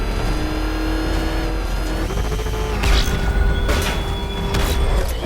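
Batmobile engine in the Batman: Arkham Knight video game, a steady loud motor drone with revving swells and a few booming bursts near the end, heard alone with no talk.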